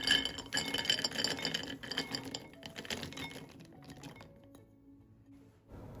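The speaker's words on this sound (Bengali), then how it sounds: "এখন বাদামগুলো এর মধ্যে আমি ঢেলে দিচ্ছি।" Peanuts poured into a microwave-safe bowl for dry roasting, a dense rattling clatter of nuts striking the dish that is strongest at first and thins out to a few scattered clinks.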